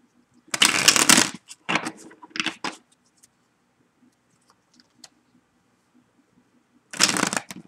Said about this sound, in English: I'm going to give these a good shuffle real quick